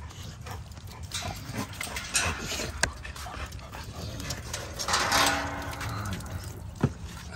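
Dogs pant and whimper nearby in a yard where several dogs are kept apart, with soft scuffles, a few sharp knocks and faint voices in the background.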